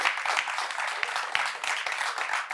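An evening audience keeps applauding at a screening event, a short stretch of steady, moderately loud clapping from many hands.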